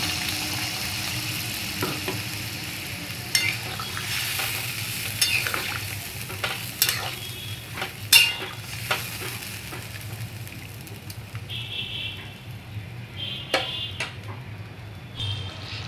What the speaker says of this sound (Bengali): মশলার সঙ্গে ভেজে রাখা সবজিগুলো নাড়িয়ে চাড়িয়ে কষিয়ে নেব।